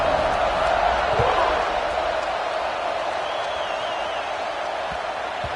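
Dense stadium crowd roar from a college football video game, Notre Dame versus Iowa, a steady loud wash of cheering that swells early then holds level for several seconds under a commentator's voice.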